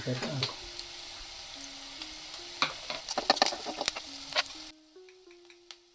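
Curry leaves and turmeric fry in hot oil with a crackling sizzle and quick spattering pops, close by, fading into quieter frying toward the end, with no talking.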